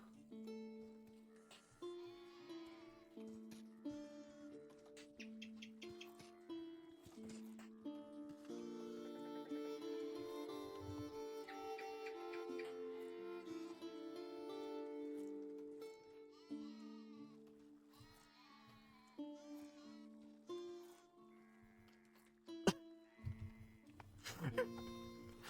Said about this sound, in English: I like how some of the sheep sounds are just bah.